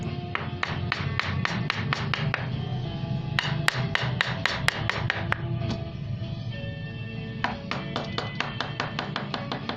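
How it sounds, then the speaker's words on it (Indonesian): Hand chiseling and carving of wood, sharp tapping strikes in rapid rhythmic runs with brief pauses between bursts, close and fairly loud. "ini contohnya orang sedang memahat"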